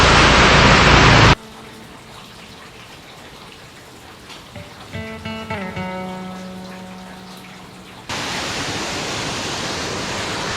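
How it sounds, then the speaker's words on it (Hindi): A local waterfall near Kedarkantha, Uttarakhand, makes a loud, close, steady roar of rushing water at the start. It cuts to a quieter stretch with faint tonal sounds, then the roar returns at full strength. "ये है वो वाटरफॉल।"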